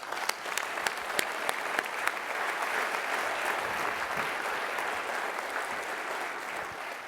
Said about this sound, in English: Just want to give a round of applause and just thank you for everything you've done for everybody.